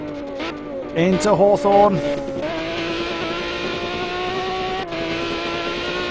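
GT3 race car engines in Project CARS at Brands Hatch drone and rev, rising and falling in pitch through gear changes, under a commentator's continuous talk.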